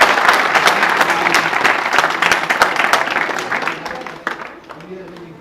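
Loud, dense applause from an audience at a village prize distribution, many hands clapping together close by. The clapping thins and fades toward the end, where a voice comes in.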